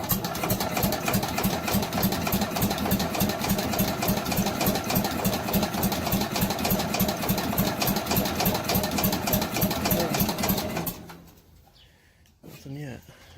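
An Allis Chalmers Big Ten tractor engine cranks and chugs in a fast, steady rhythm for about eleven seconds, then cuts out, leaving quiet with brief talk and background sound.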